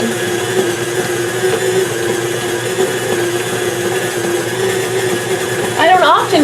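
An electric mixer works thick kolache dough in a bowl, giving a steady, loud motor whir with a strained, labouring tone, and a voice speaks briefly near the end.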